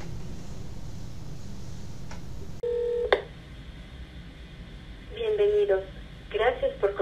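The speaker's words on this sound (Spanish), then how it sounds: "Si ustedes marcan ese número telefónico, van a poder escuchar la siguiente grabación." A telephone number being dialed, a quick series of DTMF keypad tones heard after a click, with a short clear beep followed by rapid bursts of dial tones near the end.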